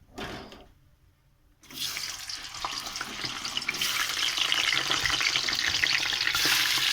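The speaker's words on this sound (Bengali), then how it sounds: "আমি শোল মাছগুলো ভেজে নেব।" Snakehead (shol) fish, heads split open, frying in oil in a wok: a quiet lull gives way to a hissing sizzle that swells and stays loud and constant, close by, with no voices.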